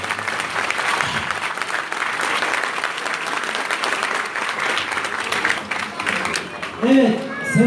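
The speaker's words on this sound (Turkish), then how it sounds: "Bir kocaman alkışlarımız." A crowd gives big applause in thanks after a Semazen whirling-dervish performance: thick, continuous clapping from many people that stays loud throughout, with a voice breaking in near the end.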